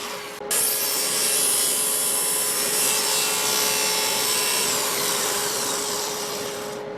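A handsaw cuts stop cuts into a wooden mallet handle, a continuous rasping saw noise that starts abruptly and runs steadily for several seconds before fading slightly at the end.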